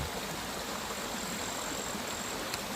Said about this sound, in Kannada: ಹೀಗೆ ನೀರು ಹರ್ಕೊಂಡು ಹೋಗಿ ಕೆಳಗಡೆ ಇರುವಂತಹ ಅಡಕೆ ತೋಟಕ್ಕೆ ಹೋಗುತ್ತೆ